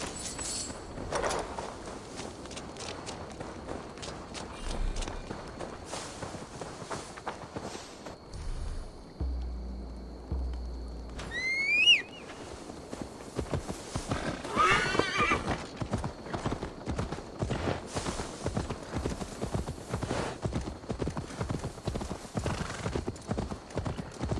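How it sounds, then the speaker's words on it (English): Hooves clip-clop steadily on the ground while a horse lets out a high neigh partway through, with game-style ambience beneath, in Assassin's Creed Valhalla. "Now to deliver Magni his horse"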